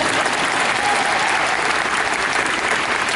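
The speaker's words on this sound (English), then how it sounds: "you can clap if you want" Dense, steady applause from a convention panel audience fills the room at close range, loud and continuous throughout with no break.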